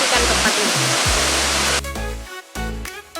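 Wero waterfall, a clear-water fall about 1 km off the Atapupu road, gives a loud steady broadband rush of falling water, with brief low tonal bursts cutting in during the second half.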